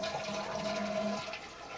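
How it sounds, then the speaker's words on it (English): Toilet flushed with its handle while being fixed for constant running, a steady close rush of water swirling down the bowl, with no talk over it. "When you pull on the flush, when you push down on the flush handle,"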